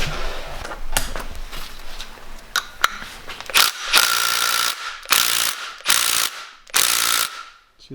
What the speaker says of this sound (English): let's get a socket and let's get these off